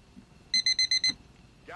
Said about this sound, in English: Ah, beeping.